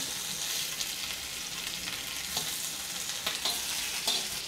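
Fish sizzles steadily in oil on a hot tawa, a soft continuous crackle broken by a few light scraping knocks as pieces are turned over.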